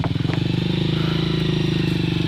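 A motorcycle engine chugs close by on a rural mountain track, a steady pulsing putter with a light rattle, while people talk faintly in the background.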